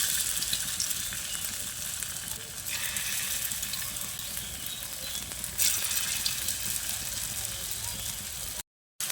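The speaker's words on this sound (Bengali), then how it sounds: "প্রথম শিফটের পকোড়া ভাজা হয়ে গেলে আবারও আমি দ্বিতীয় শিফটে পকোড়াগুলো ভেজে তুলে নিচ্ছি।" Ridge gourd pakoras fry in hot oil with a steady, dense sizzle that holds throughout, broken only by a brief dropout near the end.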